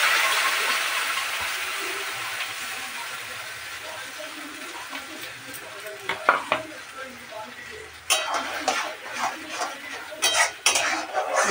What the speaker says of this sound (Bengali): ছাড়তে শুরু করেছে, আমি পেস্ট করা মশলাগুলোকে ঢেলে দিচ্ছি আস্তে আস্তে করে।